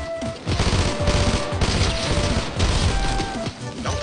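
Video game gunfire bursts out in dense, rapid volleys, loud and close, with short gaps between clusters of shots.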